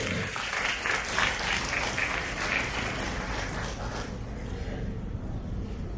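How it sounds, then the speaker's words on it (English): An audience claps for graduating students at a graduation ceremony, a full, even roar of many hands that holds steady and then gradually thins and softens toward the end. "you should be clapping for them"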